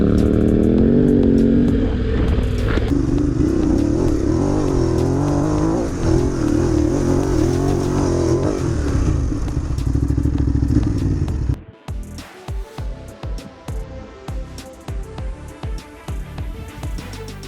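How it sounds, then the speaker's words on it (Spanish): Two adventure motorcycles, a Honda Africa Twin 1100 with an Akrapovic exhaust and a Ducati Desert X with a Termignoni exhaust, rumble loudly and steadily nearby, then break into a choppier, pulsing idle-like throb near the end. "el de la Africa Twin con su Akrapovic contra la Desert X y su Terminoni"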